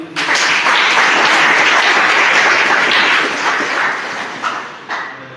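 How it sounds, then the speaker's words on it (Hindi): Loud, enthusiastic crowd applause at a gathering honoring Rajkumar sir, a thick close wash of many hands that tapers off near the end, with a few sharp yelps or barks mixed in. "मैं चाहूंगा राजकुमार सर की जोरदार ताली"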